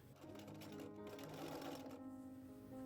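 A sewing machine runs steadily, stitching a fabric seam with a 1/4 inch allowance for a primitive fall ornamental corn decoration, its motor humming continuously and close for about three seconds with no talk.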